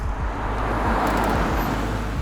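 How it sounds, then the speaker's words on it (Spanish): Steady roadway roar of vehicles rushing past on a Panamanian highway, with tractor-trailer trucks passing fast and close beside the car; a continuous loud, low rumble fills the whole stretch with no break. "las tractomulas pasan muy rápido y muy cerca del carro"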